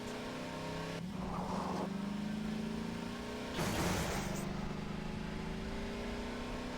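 Half-Life 2 vehicle engine droning steadily while driving, with a rising pitch as it speeds up and a louder turbo burst in the middle, close and continuous throughout.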